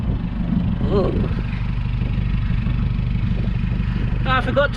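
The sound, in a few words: car reversing with stock exhaust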